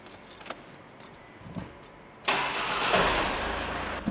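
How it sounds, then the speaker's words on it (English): A Ford Mondeo with a Powershift gearbox starts up after an oil and filter change: a few faint clicks and key jingles, then the engine catches at once and settles into a steady, close idle with no talking. "I'm going to start the car up and I'm going to run it through all the gears again."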